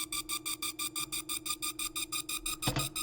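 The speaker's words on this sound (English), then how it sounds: "this is FMing the super saw." A frequency-modulated synth super saw throbs in fast, regular pulses over a sustained low tone, the modulation adding a slight metallic shimmer, with one brighter hit near the close.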